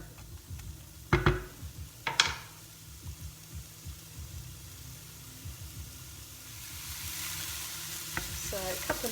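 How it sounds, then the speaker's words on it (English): Onions soften in a splash of oil with a quiet, steady sizzle, punctuated by a few sharp utensil clanks and scraping stirs, the frying hiss swelling louder toward the end. "Then I'll start to cook the onions first of all, just to soften them before adding the other vegetables."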